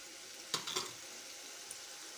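Chicken bites frying in oil make a faint, steady hiss, with a couple of brief stirring clatters near the start and no voices.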